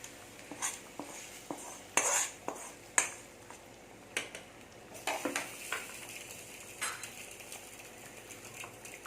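A sautéed mixture is tipped into drumstick kootu and stirred, producing a series of metallic utensil clinks, taps and scrapes against the pot at an uneven rhythm, close and fairly quiet, with no talking.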